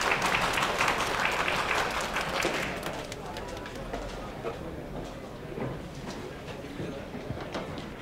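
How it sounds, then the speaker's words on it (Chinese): Applause from a bar audience, a dense patter of clapping that is loudest at first and then thins out, with a voice speaking over it. "让我们掌声有请 我们 姚菲。"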